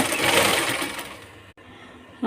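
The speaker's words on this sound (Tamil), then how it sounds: "இதுக்கு மேலே ஒரு அமுக்கு தையல் போடணுங்க" Sewing machine stitching a cloth mask in a brief fast run that fades, pauses with a click, then starts again at the end, close-up and with no voices.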